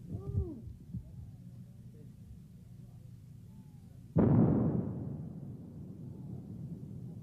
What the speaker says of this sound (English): The rocket drags the line charge over the minefield, and it is detonated once it strikes the ground.